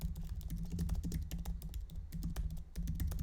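Rapid keystrokes patter on a computer keyboard in a steady run of close, crisp clicks as a note is typed, with no speech over it.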